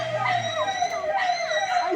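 A dog howls in the Ezhattumugham–Vettilappara area, a long wavering cry that rises and falls. It sounds fairly close and carries on almost without a break.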